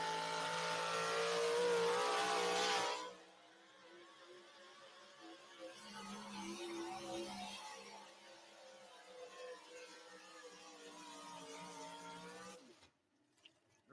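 A pulling truck's engine roars at a truck pull, loud and sustained at first, then dropping to a steadier, rougher drone that carries on for several seconds with no talk over it.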